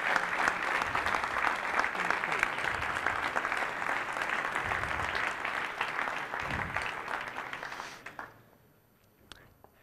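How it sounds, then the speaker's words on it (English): Audience applause at a panel debate on Europe's economic growth, many hands clapping in an even, sustained wash for about eight seconds, then fading quickly into near silence. "Let's give them one round of applause for asking the provocative questions."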